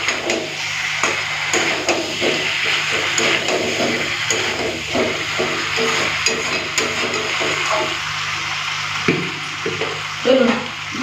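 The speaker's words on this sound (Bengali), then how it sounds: "এই যে আলুগুলো দিয়ে দিলাম তো আলুগুলো দিয়ে আরও কিছুক্ষণ এইভাবে মাংসটাকে কষে নেবো" Chunks of meat and potatoes frying in a pan for a Bengali meat and potato curry, with a steady sizzle under repeated scraping and tapping of a spatula stirring the mixture.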